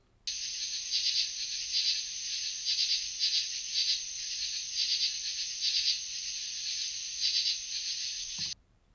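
A filtered recording of crickets chirping, a steady high-pitched trill pulsing in regular bursts, loud and close, running alone for about eight seconds before cutting off abruptly.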